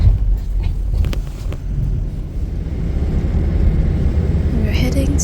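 A car on an early-morning 12-hour road trip through Tibet toward Shigatse gives a steady low engine and road rumble with wind buffeting the microphone, continuous and close throughout.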